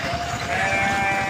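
Sheep bleat in a flock, several overlapping calls running steadily through the whole stretch, fairly close and with no voices.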